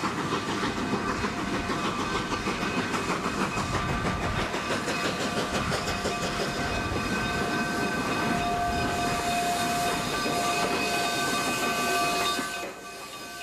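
A train rumbles and clanks steadily at close range on a mountain railway climbing toward Cumbres Pass, Colorado, with a constant mechanical chug, hissing and a sustained whistle tone near the end before the noise drops away.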